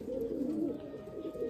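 A tournament racing pigeon coos softly and continuously at a low level, its rolling throaty notes steady across the whole moment with no speech.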